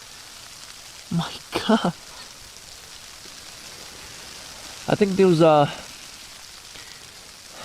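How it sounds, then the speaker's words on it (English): Steady rain and snow pattering on a tarp shelter through an overnight blizzard, a constant soft hiss broken twice by a nearby speaking voice. "It's been literally snowing and raining all night."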